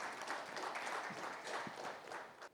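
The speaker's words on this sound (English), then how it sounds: "Can we have a huge round of applause for all the panelists and the moderator?" Audience applause for the panelists and moderator at the close of a corporate panel discussion on employee engagement, a faint, dense patter of many hands clapping steadily throughout.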